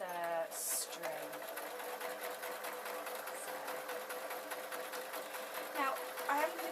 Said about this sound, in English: I'm going to grab my sewing machine again, and I'm literally going to sew along that line.